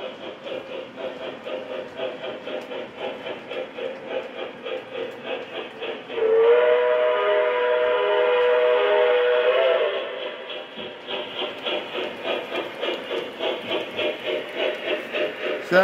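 A K-Line O-gauge model train locomotive runs on its track with a steady rhythmic clatter of wheels, and its whistle sounds for several seconds in the middle before the clattering carries on alone.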